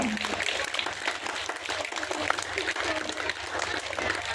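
Scouts clap loudly and continuously at a government school's annual function in Rajasthan, a dense wash of applause with a voice talking over it.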